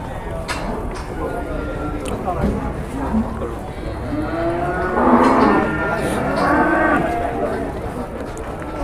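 Cattle lowing at a livestock auction where an 826 kg bull is being weighed and bargained over, several long moos rising over a busy crowd of talking voices.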